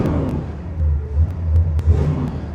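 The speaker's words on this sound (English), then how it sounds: "Engine is running great." A restored 1967 Corvette coupe with a 327 V8 idling: a steady deep rumble with slight rises in engine pitch and a few small ticks, close and fairly loud, no talking.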